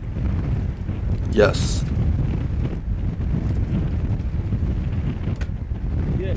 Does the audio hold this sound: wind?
yes